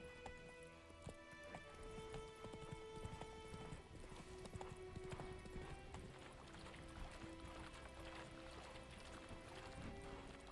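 Roach the horse's hooves clip-clop steadily in The Witcher 3, a continuous run of hoofbeats layered under dense game ambience and music, moderately close and fairly loud throughout.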